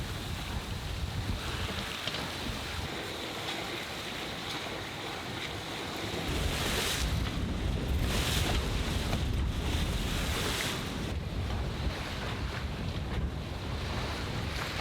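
Strong wind buffeting a sailboat beating upwind on open water, with waves and surf washing steadily around the hull and heavy gusts roaring across the microphone, growing louder partway through; no talking.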